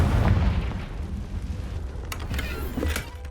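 A Confringo fire spell bursts in Hogwarts Legacy, a loud booming blast with low rumble up front that rolls off into scattered crackling debris over a few seconds.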